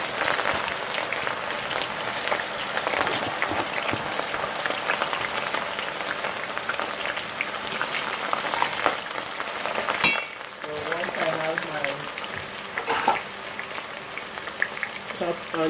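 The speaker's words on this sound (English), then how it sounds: "Okay, now I have my cooking oil in this pot for a little bit a while now. So I'll put my chopped onions." Chopped onions hitting hot cooking oil in a pot make a steady, dense sizzle and crackle, with a sharp splatter burst midway and faint stirring noises, close by and without talking.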